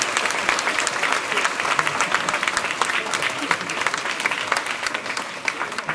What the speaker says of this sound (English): So let us give another round of applause for the three soloists,